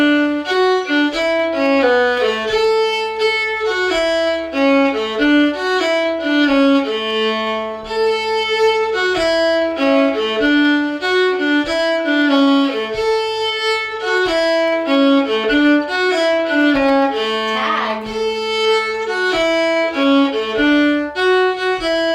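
Solo old-time fiddle plays the tag B part of the tune "Icy Mountain", a steady stream of bowed notes with drone strings, close and loud throughout with no talking.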